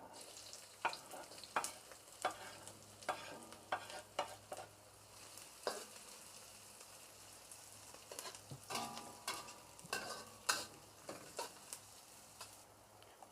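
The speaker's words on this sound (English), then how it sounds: "Stir fry it until it's golden brown." Shallot, garlic and ginger stir-fried in a pan for a sweet and sour pork rib sauce: repeated scraping stirs over a steady close sizzle, in an irregular rhythm with no talking.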